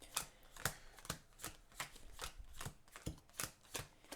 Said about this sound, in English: let's shuffle our deck nice and well here to draw a new hand